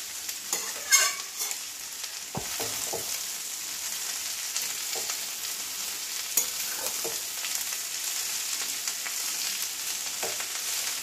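Kalmi greens (water spinach) sizzle steadily in a frying pan while a spatula stirs and scrapes them in irregular bursts, close up, with no talk.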